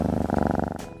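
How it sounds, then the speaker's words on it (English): A kitten purring close by, a steady rapid rumble that pulses evenly with each breath, alone and fairly loud, with a brief soft rustle near the end. "once they start purring"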